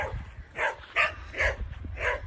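Puppies giving four short, high yips and barks in a quick, uneven series, fairly close, with faint whimpering between them in a quiet rural outdoor setting.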